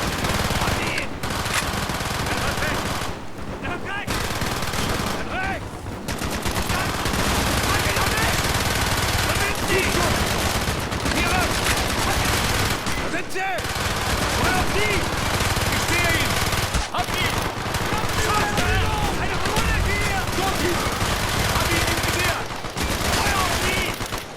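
Sustained automatic gunfire in the Call of Duty Black Ops video game, loud, rapid machine-gun bursts and fusillades filling the whole stretch with brief pauses, with battlefield voices faintly mixed in.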